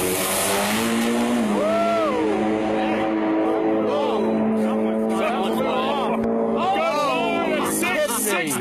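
The world's fastest four-cylinder drag race car makes a pass, its engine revving through rising and falling shifts amid crowd noise. Someone talks over it the whole way.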